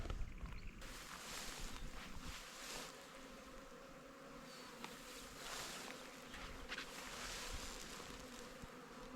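Honeybees buzz around a hive in a steady, dense drone that carries on without a break, quite faint overall, with no talking.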